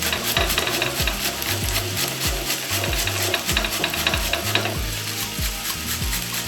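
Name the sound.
grating an onion on a coarse grater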